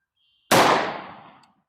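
A single loud gunshot from a Smith & Wesson revolver firing .44 Special Gold Dot ammunition into a ballistics gel block, a sharp close blast that decays over about a second, with no voices.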